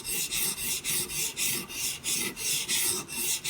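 A Benchmade Bushcrafter 162 knife blade drawn across a Hapstone guided sharpener stone in a steady rhythm of rasping strokes, about three per second, close and alone.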